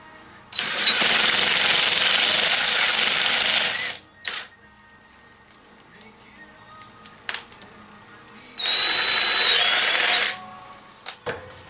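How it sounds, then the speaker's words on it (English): A Scotch-Brite wheel spins on a power tool in a shop while parts for a tattoo machine are made. It gives two loud, steady bursts of high whirring and grinding, each a few seconds long, with quiet pauses between them. "Scotch-Brite wheel"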